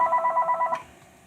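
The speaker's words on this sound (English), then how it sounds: "There's the phone." A telephone rings nearby in a workshop with a rapid trilling bell burst that stops abruptly partway through, then leaves near silence.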